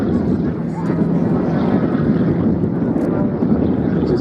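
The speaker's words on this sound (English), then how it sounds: "It's a flat 2-stroke petrol engine." A radio-controlled model aircraft with a 180cc flat two-stroke petrol engine flies at an airshow. It gives a steady, continuous drone, heavily mixed with wind buffeting on the microphone.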